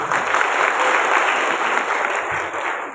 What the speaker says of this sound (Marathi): जोशी मॅडम एकदा जोरदार टाळ्या देत त्याचा आपण स्वागत